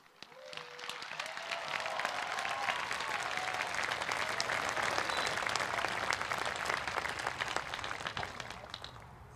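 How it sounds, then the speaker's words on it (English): A crowd at a high school graduation ceremony applauds, with sustained dense clapping that swells and holds for several seconds before easing slightly, and a faint voice briefly audible at the start. "How about another round of applause"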